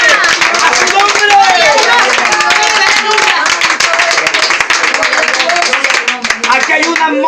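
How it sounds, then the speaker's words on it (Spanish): Congregation at a church service in a home in Caracas clapping for Jesus Christ, loud dense rhythmic hand claps filling the room together with crowd voices and shouting throughout. "¿Cuántos aplausos a Jesucristo?"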